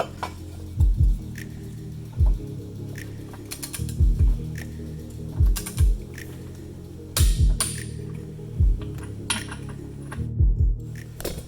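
A ratchet tightens a nylock-style nut onto a boat propeller, clicking in repeated short bursts of several quick pawl clicks with brief pauses between strokes, close and clear with no talk.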